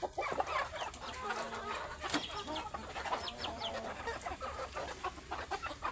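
A chicken clucks in short, repeated calls close by, outdoors, with faint background noise and no speech.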